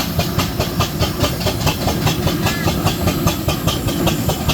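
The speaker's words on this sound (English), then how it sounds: "the engine of Sneak Capacity is a McLaren engine, very fast engine with 3 speeds and 3 gears, owned by Chris Smith" A McLaren steam traction engine with three speeds rolls past in a rally steam parade, its loud, steady rhythmic chuffing and hiss mixed with clanking at close range, with no talk.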